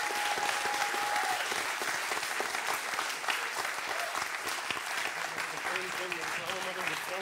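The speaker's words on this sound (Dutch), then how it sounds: "Een warm applaus voor Peter Mertens en Vijay Prashad." A conference audience gives warm applause to the speakers, a thick, sustained wash of many clapping hands that stays loud and even from start to finish, with faint voices underneath.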